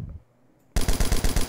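A burst of rapid automatic gunfire in the video game MTA DayZ crashes in after a short quiet pause, with about seven sharp, loud, evenly spaced shots firing in quick succession.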